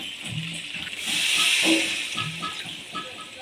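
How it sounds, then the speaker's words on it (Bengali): Water poured into a hot pan of frying potatoes for Bengali aloo dum bursts into a loud steamy hiss and sizzle, swelling then settling, with faint stirring noises. "এবার আমি জল ঢেলে দেব।"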